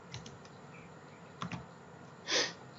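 A few quiet computer keyboard keystrokes, a Ctrl+S save press, come as soft separate clicks followed by one louder key tap near the end.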